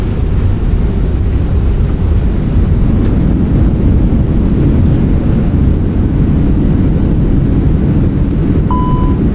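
Reverse thrust from an Airbus A320 landing in Microsoft Flight Simulator 2020, a loud continuous broadband engine roar held steady throughout, with a brief high electronic tone near the end.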